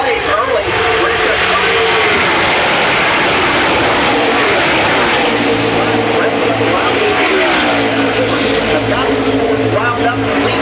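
NASCAR race cars roaring around Talladega during qualifying, Hendrick Chevrolets near 200 mph, a loud sustained engine drone with pitch sweeping as cars pass, mixed under a commentator's continuous voice.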